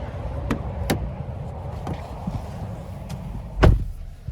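Someone climbs into the driver's seat of a 2024 Nissan Rogue S, producing a few soft thumps and rustles inside the cabin, with a louder knock near the end, all close and moderately quiet.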